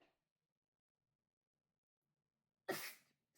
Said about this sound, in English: sneeze.